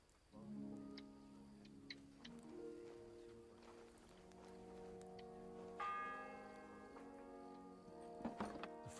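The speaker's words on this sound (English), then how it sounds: "The first bell." A church bell tolls in Kingdom Come Deliverance 2, its rich, sustained ringing strikes layering over one another with a hum of medieval ambience beneath.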